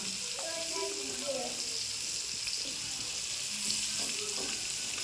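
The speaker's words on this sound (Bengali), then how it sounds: "ডাঁটা, রাঙালু আর গাজর একসাথে দিয়ে 5 মিনিট ভাজবো" Stalks, sweet potato and carrot frying together in a pan, a steady broadband sizzle running throughout with faint stirring clinks and a little background voice.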